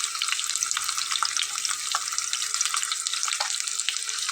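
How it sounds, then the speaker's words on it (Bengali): Hilsa fish head frying in soybean oil, a dense, continuous crackling sizzle heard close up and fairly loud, with no voices. "তো প্রথমে মাথাটা একটু ভালোভাবে ভেজে নিতে হবে"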